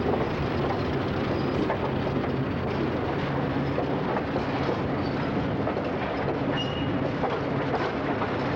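A Rock Island train rolls slowly along the track near Peoria, a steady, moderately distant rumble of rail cars with faint clicking and creaking throughout and no pauses.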